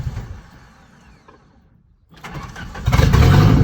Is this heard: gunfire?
no